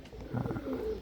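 Pigeons in a breeding setup give a brief, soft, low coo, close by and alone, with faint background noise.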